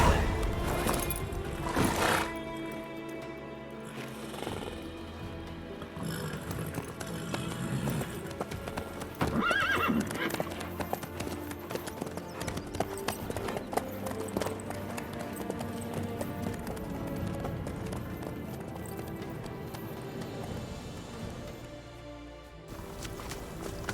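Horse hooves clip-clop at a steady gallop through The Witcher 3, with a neigh and whinny breaking in, close and loud over layered game music and ambience, continuing throughout.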